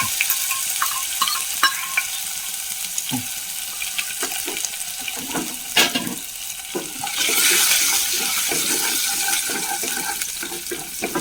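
Washed urad dal sputters and fries in hot oil in a pan for tomato upma, a continuous close crackling sizzle with scattered pops and a louder watery hiss partway through, no speech.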